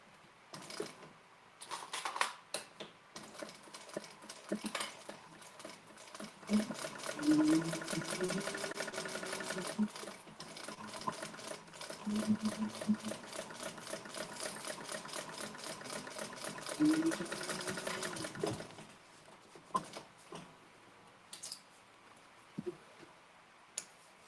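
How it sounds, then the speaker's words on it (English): A sewing machine runs in steady rattling bursts as it stitches a seam in a sewalong class, with pauses between runs and a quieter stretch at the end, close and fairly loud, with no talk over it. "let's sew this together at the specified seam allowance"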